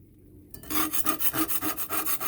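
A spatula scrubs the unpolished side of a marble slab used as a grill, making loud, rhythmic raspy strokes about five times a second after a brief quiet start.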